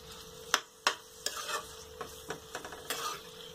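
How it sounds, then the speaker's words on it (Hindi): Potato pieces roast in ghee over a low flame for an aloo halwa. A quiet sizzle runs under a few sharp scraping strokes of a spoon in the pan. "ऐसे में घी में धीमी आंच में आलू को भूंजना है"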